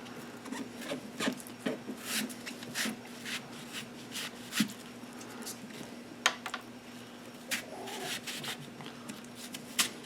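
Repeated scraping and rasping strokes as the inside of a carved pumpkin is hollowed out, a steady series of close, moderately loud scrapes with a low hum underneath and no talking.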